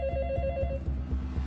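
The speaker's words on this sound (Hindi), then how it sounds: "डॉक्टर सैम को फोन लगाओ।" A telephone rings with a brief trilling bell tone, close by and over soft background music.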